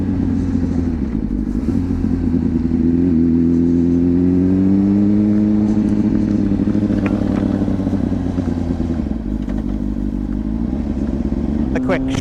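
A Honda CBR600RR motorcycle engine runs steadily and loudly in gear. Its pitch climbs and then settles as it pulls, with wind noise throughout.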